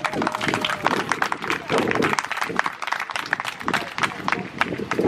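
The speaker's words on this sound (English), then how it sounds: "Please give Madam Principal another round of applause" Applause at the Buff Bay Primary School graduation ceremony in 2021 for the principal, busy clapping from the audience with some voices and movement mixed in, fairly loud and close.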